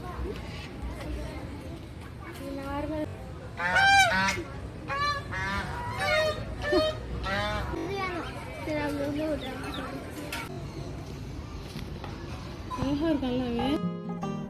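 Repeated honking calls from a duck, fairly close, at a bird park in Trichy, over a background of crowd chatter and murmuring voices.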